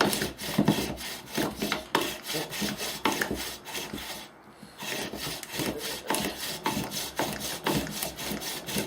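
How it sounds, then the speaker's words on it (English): A bow drill's cord winds around a wooden spindle that spins against a wooden board, giving close, rhythmic back-and-forth rasping strokes with a brief pause midway. "The cord is really binding around the spindle, so it really makes it turn"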